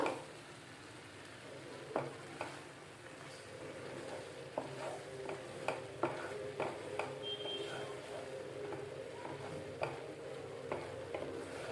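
Goat brain curry simmers and sizzles softly in a pan, a faint steady bubbling broken by scattered light clicks and ticks from stirring or the pan.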